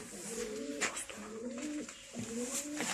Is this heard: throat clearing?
no